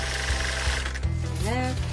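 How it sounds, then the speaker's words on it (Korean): A sewing machine runs steadily, stitching coarse hemp fabric for summer bedding with a rapid mechanical hum and a rhythmic needle chatter, joined near the end by a brief rising whine. "삼배는 원단이 일반 직물보다 성글어 재봉틀로 서너 번 박아줘야 하는데요"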